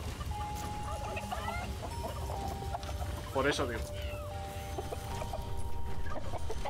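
Turkeys cluck and gobble in the dungeon-management video game Dungeons 4, with one brief, prominent burst midway, over a constant game background while someone talks in Spanish.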